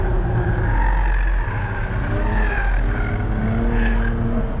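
Mercedes-AMG car, a CLS 53 or E 53 Cabriolet, launching from the start of a timed lap, heard as a continuous engine drone rising in pitch with a tyre scrub, fairly loud and muffled, with no talk.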